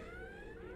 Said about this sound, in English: you can hear that alarm sort of off to the left, and when I turn, you will hear it rotate around you